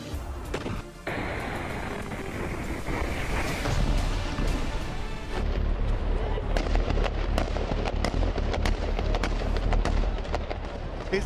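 IDF soldiers firing in Hebron, a dense, continuous crackle of rapid gunshots and sharp reports with a heavy low rumble beneath, loud and sustained throughout, with a voice talking over it.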